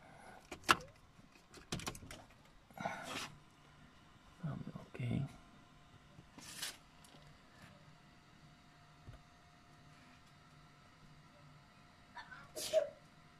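A single person sneezes sharply during servicing of a 2010 Citroen C5 2.0 HDI, amid quiet garage sounds of clicks and soft knocks, with a few brief bursts of speech.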